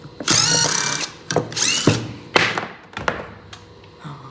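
Cordless power drill, compared against a Makita and felt to be plasticky, running in several short bursts with a high gear whine, close and loud, with brief pauses and a clunk between runs.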